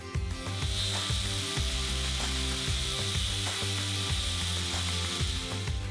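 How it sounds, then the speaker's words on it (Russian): An angle grinder screams steadily while sharpening a bone needle, its motor drone pulsing in repeated dips as the piece is pressed and eased off. "Немного заточим иглу болгаркой."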